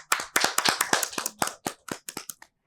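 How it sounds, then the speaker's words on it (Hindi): At a live Christmas church broadcast, an audience claps to welcome Mr and Mrs Pastor Adam Paul. A brief, close burst of distinct, uneven hand claps fades to a few scattered claps, with no talking. "तो आइए हम वार्मली वेलकम कहते हैं आपकी जोरदार तालियों में।"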